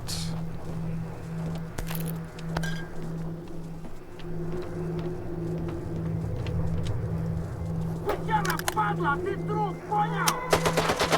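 Gunfire aimed at the player in the video game STALKER 2: a few scattered sharp shots early on, then a cluster of cracking shots near the end, over a steady pulsing electronic tone and low game ambience.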